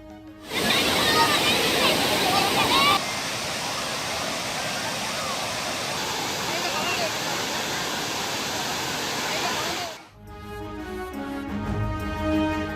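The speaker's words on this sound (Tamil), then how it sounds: "அணையில் அருவி போல கொட்டும் தண்ணீரில் சிறியவர்கள் முதல் பெரியவர்கள் வரை உற்சாக குளியல்" Water spills over Kodiveri dam like a waterfall, a loud, continuous broadband roar that holds steady for about ten seconds before it suddenly cuts to different, quieter sound.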